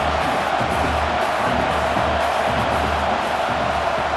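Constant roaring stadium crowd at a college football video game between Oregon and UCLA, a dense, loud wall of cheering and noise holding steady throughout with no pauses.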